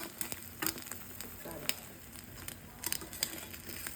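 Egg frying in a small kadai with chopped onion and green chili, a steady soft sizzle with faint crackles and the occasional scrape of a spatula, close up and moderately quiet, with no talking.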